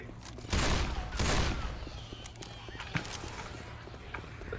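Gunfire in Left 4 Dead 2: two loud, dense bursts of rapid shots early on, followed by quieter scattered pops and clatter against a low background, with a faint voice briefly underneath.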